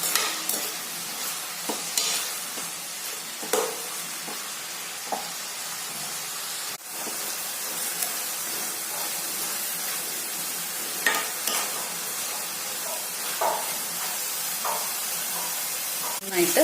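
Egg burji ingredients with onion frying in a pan, giving a steady sizzle with repeated scraping and stirring clicks throughout, close and moderately loud.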